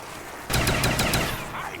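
Python pistol, upgraded to the Cobra, fires in Black Ops Zombies as a quick burst of about five sharp, loud shots in rapid rhythm, preceded by a quiet moment.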